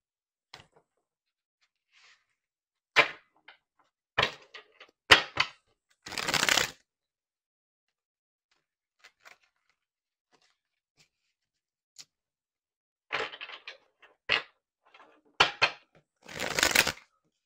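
Tarot cards are shuffled and drawn in short, sharp bursts of riffling and snapping, separated by quiet pauses, close and fairly crisp.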